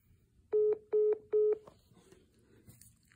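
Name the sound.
telephone dialing tones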